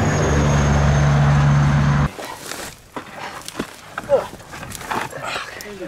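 Dogs hunting rats outdoors: a loud continuous rumble gives way to scuffling, snuffling and a few sharp yelps and whimpers from the dogs, with a person talking at moments.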